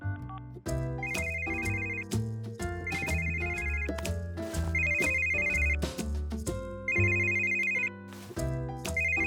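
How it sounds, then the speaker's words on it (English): A cell phone ringtone plays a repeated melodic ring inside a house, loud and close, in several bursts with short gaps between them. "You can call your phone and we'll hear it ring."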